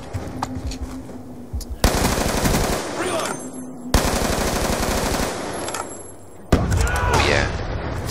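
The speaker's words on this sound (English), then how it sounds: "I just love the sound of this weapon." Rapid automatic weapon fire from Call of Duty Black Ops 2 on Xbox 360, in a Hardpoint match on the Downhill map: loud sustained bursts broken by short pauses, with sharp onsets and dense rattling fire throughout.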